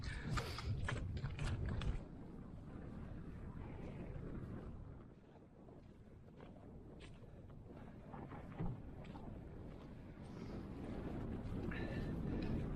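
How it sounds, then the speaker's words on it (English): Cold, cutting breeze blowing across open Dartmoor moorland on an October morning, a steady wind rush buffeting the microphone throughout, dipping briefly in the middle before building again. "that is a cold cutting breeze blowing across Dartmoor this morning"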